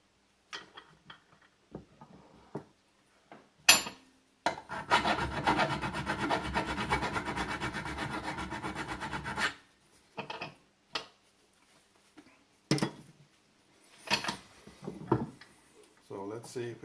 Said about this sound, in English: Take a file. Get rid of the burrs